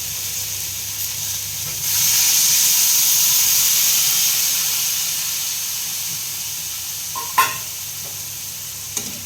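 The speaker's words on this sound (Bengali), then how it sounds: "এখানে জল দিলাম।" Water poured into a hot pan while cooking crab bursts into a loud, steady sizzling hiss that slowly fades over several seconds, followed by a couple of faint clinks.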